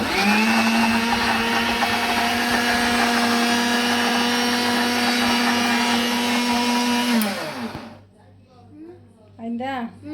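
An electric blender whirs loudly and steadily while blending mango juice with cold water, then winds down and stops; voices talk briefly after it falls quiet.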